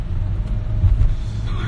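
A car driving on a road on a Sunday evening around Vellore, with a steady low engine and road rumble close by and faint voices underneath.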